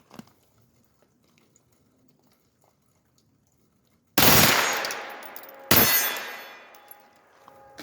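After near silence, a rifle with a match grade trigger is bump fired by feathering, giving two loud rapid bursts of shots, the first about a second and a half long, the second shorter, both ringing off outdoors.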